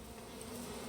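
Bees buzzing in the survival video game Icarus, a steady insect drone that stays close and even for about a second with no talking.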